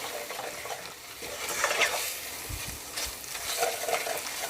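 All-purpose flour roux stirred and cooking in a pan for homemade cream of mushroom soup, a continuous soft sizzle and scraping with low knocks of the utensil, close and without speech.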